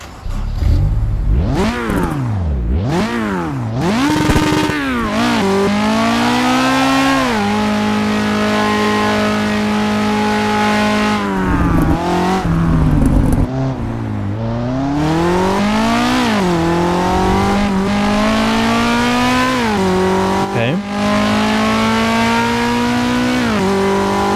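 A Honda S2000 in Assetto Corsa Evo, heard from outside the car, revs hard through repeated climbs and drops in pitch as it accelerates and shifts, loud and close, with brief tire squeal and no talking.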